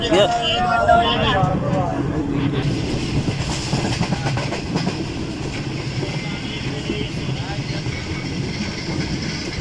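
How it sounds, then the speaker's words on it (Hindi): Karakoram Express passenger train running on rails, a continuous rumbling roll with rhythmic clickety-clack of wheels over joints, heard from inside a coach with faint voices murmuring under the steady noise. "सरारी रेलवे स्टेशन पर हमारी ट्रेन ने ओवरटेक किया है ऑल मीडियम ट्रेन को"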